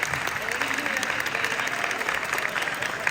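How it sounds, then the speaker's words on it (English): A seated audience at a Halloween III: Season of the Witch reunion panel gives a steady, dense round of applause that holds at an even level throughout. "so just a big round of applause"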